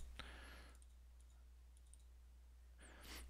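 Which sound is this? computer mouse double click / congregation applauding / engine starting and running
computer mouse double click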